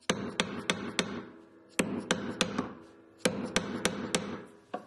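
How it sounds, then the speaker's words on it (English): A plastic hammer taps a metal ring in three bursts of about four quick, bright strikes each, every hit ringing briefly, close and fairly quiet with short pauses between groups. "with the plastic hammer, so it doesn't deform our material. I am just going to tap it like so."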